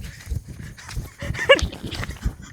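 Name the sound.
dog barking at night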